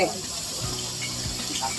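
Water is poured for cooking fish on a farm, giving a steady close gush and splash like a running tap, with low background voices.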